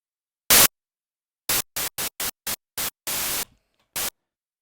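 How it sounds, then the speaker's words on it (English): Synthesizer white noise preset triggered in short bursts: a loud hiss, then a series of brief evenly spaced hissing hits, one longer burst, and a final short blast, each cutting off sharply into silence. "And we're going to stick this on white noise."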